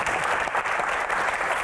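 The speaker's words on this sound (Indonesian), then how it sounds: "Tepuk tangan buat Aco" A studio audience claps for a film guest on a comedy talk show, a short burst of brisk, fairly quiet applause from a crowd.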